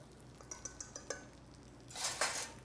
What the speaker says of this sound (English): Now I'll give that a nice whisk.